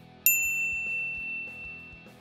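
A single bright notification bell ding strikes once and rings out with a long, fading metallic tone over a faint low background, close and fairly quiet.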